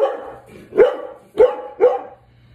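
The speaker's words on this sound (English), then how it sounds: "Sorry about the dog." A dog barks three times in quick succession at close range, loud single woofs spaced about half a second apart with a quieter lead-in, no talking over them.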